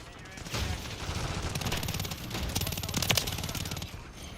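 Rapid gunfire in the video game Call of Duty Modern Warfare III: bursts of automatic weapon shots crackle over a continuous background din, with a few sharper cracks standing out near the end.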